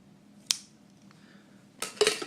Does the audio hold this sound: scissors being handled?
yes